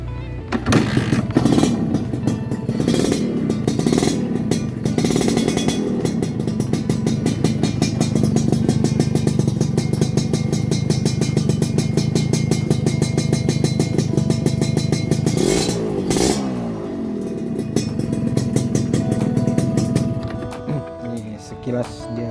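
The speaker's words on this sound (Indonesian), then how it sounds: "kita coba cek sound ya, tes suara knalpotnya" A Suzuki Satria two-stroke motorcycle with an Andy Speed racing exhaust idles loudly and blips in sharp revs, a raspy crackling drone that rises and falls throughout.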